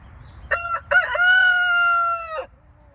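A rooster crows once, loud and close, a long drawn-out call with a brief break near its start, among a flock of chickens on a farm, followed by quiet.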